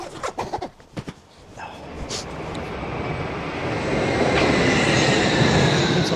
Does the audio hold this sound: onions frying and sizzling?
no